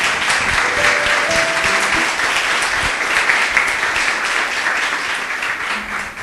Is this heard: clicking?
no